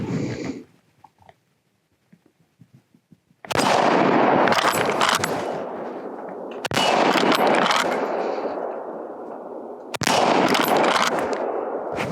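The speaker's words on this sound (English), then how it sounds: "we'll take a few shots at our usual target and see how it goes" Marlin lever-action rifle shots at an outdoor target: three loud, sharp reports, each with a long, rolling echo that fades over several seconds, and faint clicks and handling noises in the quiet gap before the first shot.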